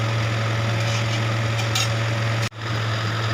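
Palm fruit (tal) fritters fry steadily in hot oil, a continuous close bubbling sizzle with a brief dip near the end, no voices.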